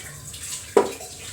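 A brief, sudden splash of water poured into a pan of fish curry, close by, standing out from a quiet kitchen background.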